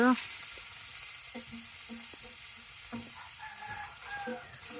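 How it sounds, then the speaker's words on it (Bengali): Dried fish frying with garlic in a home kitchen pan gives a steady soft sizzle throughout, with occasional stirring clatters and a rooster crowing faintly in the background. "এখন রসুনের মাঝে শুটকি মাছ দিয়ে দিছে দিয়ে একটু ভেজে নিব"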